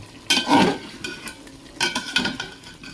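Jackfruit pulao being stirred after salt is added, with a metal spoon scraping and clattering against the pot in uneven bursts over a soft background sizzle, close and clear, with no voices.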